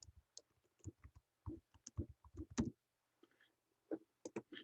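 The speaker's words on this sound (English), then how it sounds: "I'm going to type that because that's easier." Keys clack on a computer keyboard in quick, uneven bursts of separate taps with short pauses, close and fairly quiet, with no voices.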